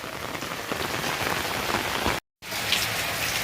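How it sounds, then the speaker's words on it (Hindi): Heavy monsoon rain falls steadily on surfaces, a dense continuous hiss with scattered drops close by, broken by a brief gap. "ये बारिश के सीजन है भाई,"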